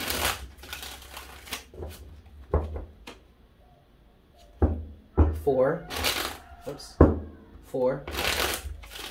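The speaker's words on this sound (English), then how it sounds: "Five shuffles." Tarot cards shuffled by hand in several crisp, riffling bursts spread across the stretch, each one close and distinct, with a voice talking and counting between and over them.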